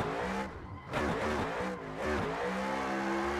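A car engine in a racing simulator revs and bogs in steady harmonic waves while drifting, loud and continuous, dipping briefly twice as the throttle lifts, with no voices.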